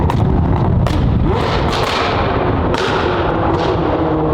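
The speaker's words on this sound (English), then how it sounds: "Well, I hear some gunshots in this overpass." Gunshots ring out under a highway overpass, several loud, sharp booms in quick irregular succession, each leaving a reverberant, echoing tail against a constant heavy rumble.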